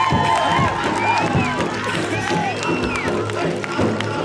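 At the 2008 Red Lake Fair, an audience cheers and claps for dancers, with shouts and whistles over a lively, busy background and some voices talking.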